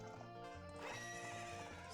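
A horse in Ocarina of Time lets out a short, bright neigh with faint clip-clop of hooves beneath, brief and clear against a game background.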